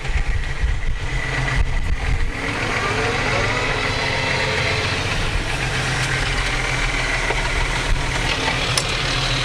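A tractor engine runs steadily while plowing at around 1,400 RPM, a loud, continuous low rumble with mechanical clatter heard from the cab.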